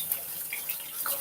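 Hot cooking water from a pot of boiled skate pours out in a steady hiss and splash, moderately close, with faint drips and no talking.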